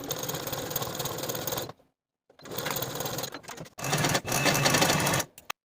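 A sewing machine stitching the side seams of a tiered skirt runs in three loud, steady bursts with short silent pauses between them, close up and with no talk.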